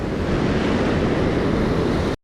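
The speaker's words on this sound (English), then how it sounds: "There's a lot of breaking waves, and it's pretty deep." Surf breaking on an Oregon beach, a loud steady rushing wash with wind buffeting the microphone, continuous until it cuts off abruptly at the end.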